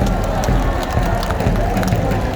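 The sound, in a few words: crowd applauding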